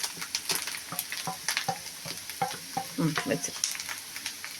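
Watermelon rind sautéing in hot ghee in a pan, a steady crackling sizzle with stirring scrapes and occasional pops, close and moderately loud, with a brief spoken word in Tamil.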